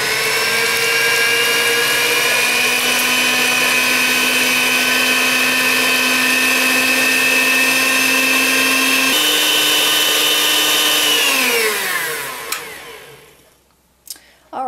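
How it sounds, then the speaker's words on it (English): Electric hand mixer whipping egg whites at high speed for cookie baking, a loud steady motor whine that holds, dips slightly in pitch, then winds down and stops, followed by brief clatter. "we're going to rev this up to whipped egg speed, and before you know it, we will have whipped up egg whites"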